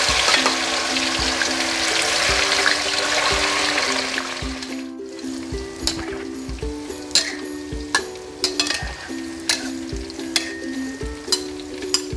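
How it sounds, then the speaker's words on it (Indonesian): Tofu fries in hot oil in a home kitchen, a loud bubbling sizzle that settles into a calmer hiss punctuated by repeated clinks and scrapes of a spatula against the pan. "Setelah itu kita mau goreng tahu ya."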